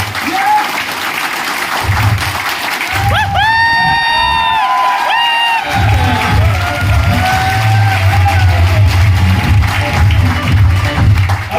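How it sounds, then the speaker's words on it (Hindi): Applause and cheering from an audience at a training meeting in Gurgaon, Haryana, steady clapping throughout with whoops and shouted cheers rising midway, plus low voices underneath. "एक तालियां चाहूंगा बालिका भाई के लिए"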